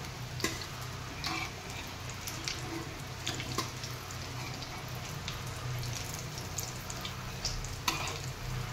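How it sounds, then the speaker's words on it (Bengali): Bogo fish frying in hot oil, a dense, continuous close sizzle and bubbling with scattered crackles and pops that stays steady throughout. "এই বন্ধুরা বগো মাছের ফিশ ফ্রাই রেডি হয়ে গেছে"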